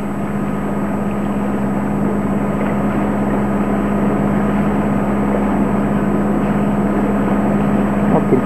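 A 1990 Grand Soleil 39 sailboat's engine idles steadily while motoring along the Intracoastal Waterway, a constant low hum with a rumbling drone and faint tonal whine, unbroken and even throughout.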